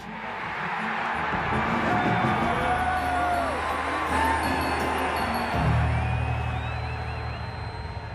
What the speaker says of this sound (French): Et partout, le peuple applaudit à la vue du dieu donneur de vie.